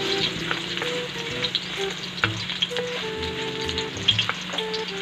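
An oily, spicy mixed adobo of pork, beef and chicken frying in a pan, giving a continuous close sizzle dotted with small pops and occasional stirring knocks.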